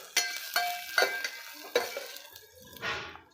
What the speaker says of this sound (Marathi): टोमॅटो छान परतून घ्यायचा आहे